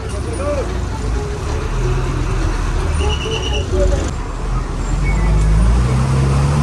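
A private bus on the Valparai service rumbles closer along a road, engine noise swelling and steady traffic hum around it, with faint chatter in the background.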